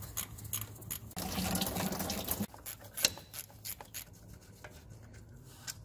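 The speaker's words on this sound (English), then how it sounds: "there is a bucket down here, well, a tray down here for all this coolant to go in" Engine coolant drains from a pulled-off pipe into a tray below, a steady close splashing rush for a couple of seconds, then scattered rubbing, scraping and knocks as the flow stops.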